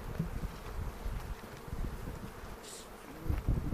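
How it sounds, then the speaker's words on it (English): Honeybees buzz around a hive in a low, continuous drone during a hive inspection as the top cover is taken off, with close wingbeats and faint handling noises mixed in. "Take the top cover off and I'm trying to shake the bees off."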